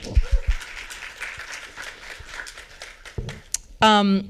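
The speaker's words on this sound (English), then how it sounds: "So a round of applause for you" An audience at a college-access program's year-end celebration claps in a moderate, steady patter for about three seconds, then a voice speaks over a brief louder burst at the end.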